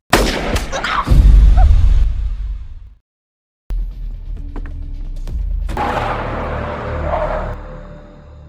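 Gunfire in a film, with loud booming blasts and sharp cracks in the first seconds, a brief silence, then another burst of impacts and rumbling action noise.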